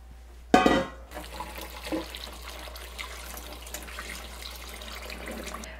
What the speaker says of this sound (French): toute la chair qui est pressée, on va aller la rincer avant de la faire baigner dans l'eau pendant une heure